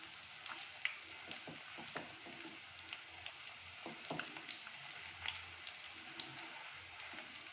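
Puti fish pakora fry in hot oil as the pieces are turned, giving a continuous soft sizzle dotted with frequent small crackles and pops, steady and close without talk.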